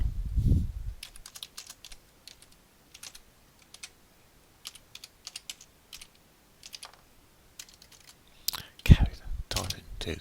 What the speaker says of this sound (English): Typing too quick.